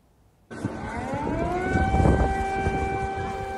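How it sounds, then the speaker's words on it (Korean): An air raid siren starts abruptly and wails on a sustained rising-then-steady tone, loud and continuous with a busy background of street noise beneath it. "갑자기 공습 사이렌이 울립니다."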